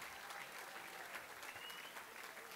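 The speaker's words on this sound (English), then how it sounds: "Give yourselves a round of applause." Crowd at a community event applauds, a short burst of steady clapping, fairly faint and distant, with no gaps.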